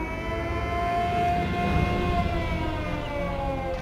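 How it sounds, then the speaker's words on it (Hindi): An alarm siren in the video game Sniper Elite 5 wails steadily in a long sustained rising tone, loud and continuous over a rumbling background. "इसने कैसे सायरन बजा दिया यार।"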